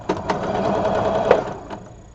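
A sewing machine fitted with a quarter-inch foot runs steadily, a close, continuous mechanical whir with a few sharper ticks as it stitches through quilting fabric.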